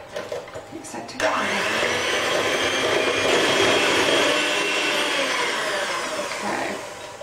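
An electric mixer beats banana bread batter of butter and sugar, a loud steady motor whir that starts abruptly after a quiet moment and runs evenly before easing off.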